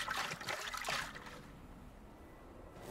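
Water trickles and sloshes inside Lok, a hurt character in the Fortnite game. It is quiet and close, with a brief burst of dribbling liquid at first that fades to a soft watery hiss.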